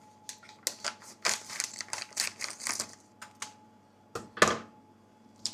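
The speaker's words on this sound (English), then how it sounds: "Grab our sanitised pair of scissors and just open that body blend up." Crisp plastic crinkling and sharp snipping clicks as scissors cut open a beer kit's plastic packet, a quick irregular series of close cuts followed by a louder crackle near the end.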